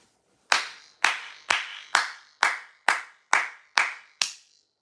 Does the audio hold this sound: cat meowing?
no